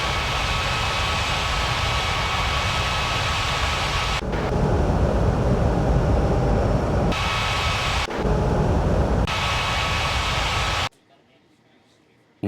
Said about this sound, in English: Austral 3235, cleared for takeoff runway 14 right.